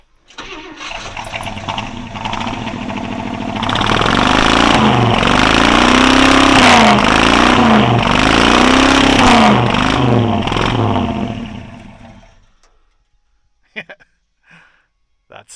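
A 1973 one-ton truck engine with straight-pipe exhaust stacks cranks, catches and revs loudly in rising and falling surges for several seconds before cutting off, leaving faint clicks.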